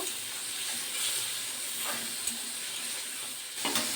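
A spice masala with salt and turmeric being fried down in a pan: a steady, moderate sizzle and hiss with faint scraping stirs runs throughout, and no one speaks.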